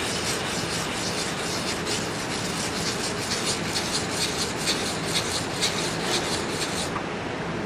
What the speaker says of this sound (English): take the 15 micron core grit and have it up in the air and do a few figure eights with that